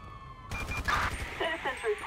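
Gunfire and police sirens in Grand Theft Auto V: a low hum, then a sudden burst of rapid shots with siren wails over it and a radio-style voice talking throughout.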